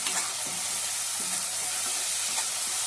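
A tomato, ginger-garlic and coriander paste sizzles steadily in a pan while a spoon stirs it, giving soft repeated scraping strokes over continuous frying hiss, close and even, with no voices.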